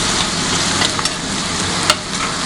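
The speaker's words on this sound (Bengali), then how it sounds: "এবারে পেঁয়াজটাকেও আলুর সাথে ভালো করে ভেজে নিতে হবে।" Loud, close sizzling of onion and potato frying together in a pan, a continuous dense hiss broken by a few sharp spatula scrapes and stirs, with no talking.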